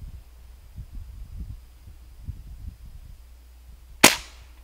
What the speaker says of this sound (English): you got your gun loaded, take safety off, and you take aim.